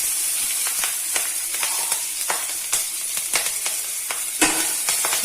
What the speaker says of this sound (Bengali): তেলটা গরম হয়ে গেছে, সামান্য একটুখানি হলুদ দিয়ে দিলাম, দিয়ে এই দেখুন কাঁচা লঙ্কা আর গোটা জিরা দিয়ে দিলাম